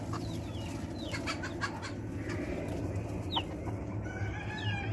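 Chickens and roosters spilling out of a coop in the morning make a soft, steady clucking, with scattered higher calls and a faint crow near the end, all fairly distant over a low background hum.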